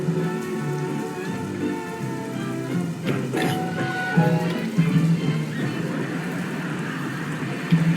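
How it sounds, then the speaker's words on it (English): Steady rain patters on a surface, a dense, continuous hiss of falling drops with faint musical tones underneath. "Still raining?"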